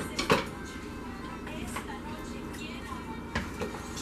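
A spoon stirring homemade ceviche in a bowl gives a few sharp clinks against the dish and soft wet scraping, close by and moderately loud, with a voice talking underneath.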